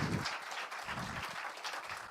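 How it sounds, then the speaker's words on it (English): A short burst of applause from a business conference audience, dense clapping filling the moment at steady loudness, with no voices over it. "let's give him a round of applause"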